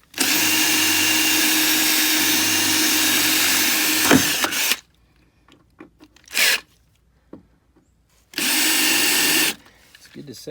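A power drill runs in a long steady whine for several seconds, stops, gives a brief burst, then drills again in another sustained run, close up, fitting trim tabs to a jon boat.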